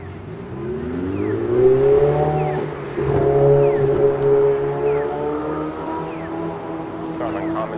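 A car drives past on a downtown Toronto street near Yonge and Bloor, a loud passing engine swelling and fading over steady traffic and wind noise.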